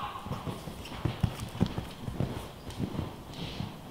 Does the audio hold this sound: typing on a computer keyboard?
no